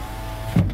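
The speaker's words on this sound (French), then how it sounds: "Vitre électrique." The electric window motor of a 2010 Toyota RAV4 V6 Limited hums steadily close by, ending in a brief thunk as the glass reaches its stop.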